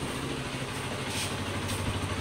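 A 2019 Zontes 310T motorcycle fitted with an Akrapovic exhaust idles nearby, a soft, steady low engine burble with faint popping, no one speaking.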